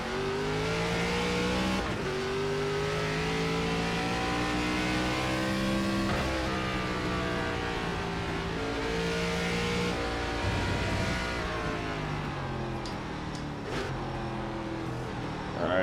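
ARCA race car in the iRacing sim, its engine droning loudly and steadily, with pitch rising under acceleration and falling through several downshifts, plus faint tyre noise toward the end.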